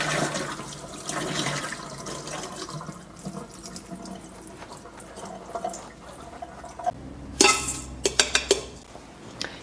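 Water drains from soaked rice in a kitchen, first as a steady running pour and rush, then clinks and clatters of a pot or strainer near the end, close and moderately loud.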